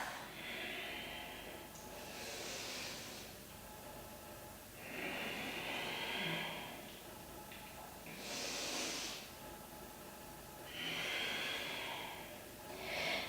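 Slow, deep yoga breathing during a posture routine, with long audible inhales and exhales, including hissing, airy breaths, recurring in a steady rhythm of about four cycles, close and fairly soft.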